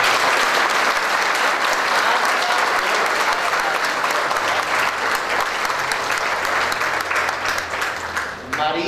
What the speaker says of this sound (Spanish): un aplauso, ¿ok?